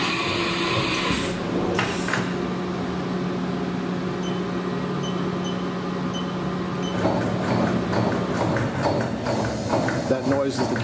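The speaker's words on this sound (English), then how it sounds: "That noise is the carousel indexing around." A Haas VF3 CNC vertical machining center rotates its tool carousel, giving a steady mechanical whir under a constant low hum, then busier clattering clicks as the tool change follows; a voice speaks over the machine.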